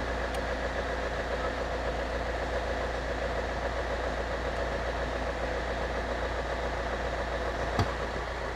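A Kia Sorento engine idles steadily just after starting, a constant low hum and vibration heard close by, with one brief click near the end and no talking.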